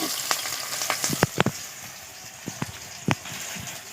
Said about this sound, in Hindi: तो ये देखिए अभी प्याज को पूरा अच्छी तरीके से भून ले रहे हैं।